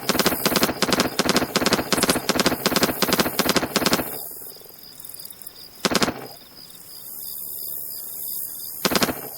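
Splatoon's L3 Nozzlenose sound, swapped onto a weapon in a Left 4 Dead 2 mod, rattles off a long run of rapid, loud, evenly spaced shots, then a couple of isolated bursts over a background of in-game noise.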